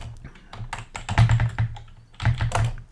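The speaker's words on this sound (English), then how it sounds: "what I'm going to be doing is just typing it in." A computer keyboard typed on at close range, with quick bursts of keystrokes and short pauses between clusters of clicks.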